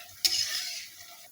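Desai vada, also called khatta vada, frying in hot oil over a slow to medium flame, heard as a steady close sizzle that starts with a sharp burst and fades toward the end, with no talking.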